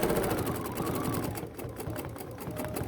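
BERNINA sewing machine with stitch regulator stitching small free-motion curves, a fast, even mechanical whirring chatter running steadily up close and alone.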